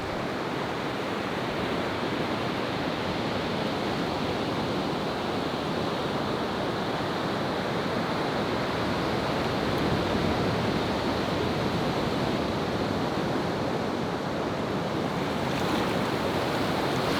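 Steady, loud wash of ocean surf along the shore on Catalina Island, a continuous broadband roar with wind buffeting the microphone and no distinct individual breakers or voices.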